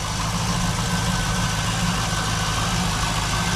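A 2002 Chevrolet Camaro SS 35th Anniversary with a 5.7 liter V8 idles steadily, a constant close low rumble with a broad hissing texture and no voices.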